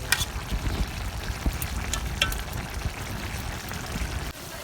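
River fish curry with potato and eggplant sizzles steadily in a pan as its liquid cooks down, a continuous close frying hiss with small pops and crackles throughout, no voices.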